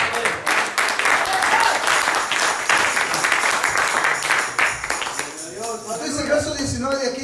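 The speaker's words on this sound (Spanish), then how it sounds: "Denle el aplauso al Señor." A church congregation claps and cheers in praise, a dense wash of many hands filling the room for several seconds before thinning as voices and music rise underneath.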